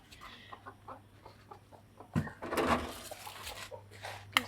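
Chicken clucking near a village farmyard, a run of short soft clucks followed by louder bursts of squawking and flapping, with quieter clucks continuing after.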